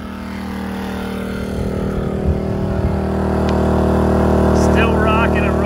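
A 2000 watt portable generator runs steadily with a constant droning engine hum, close and fairly loud, powering a Lance 650 camper, and no break in the noise.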